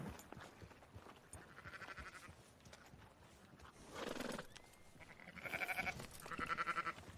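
Sheep bleat in Red Dead Redemption amid horse hooves clopping and a whinny, with several wavering bleats near the end, fairly faint against the game ambience.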